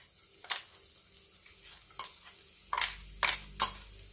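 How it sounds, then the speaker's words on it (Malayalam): Ground dried shrimp and coconut chutney added to hot oil with curry leaves, a faint sizzle beneath a handful of sharp scraping stirs of a spoon against the pan. "അതിലേക്ക് നമ്മൾ അരച്ച് വെച്ചിരിക്കുന്ന ചമ്മന്തി ചേർക്കാം."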